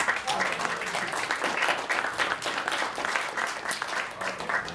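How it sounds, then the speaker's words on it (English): Audience applause at a panel event, a sustained, even wash of clapping from a crowd that continues throughout. "give me a round of applause for Margaret."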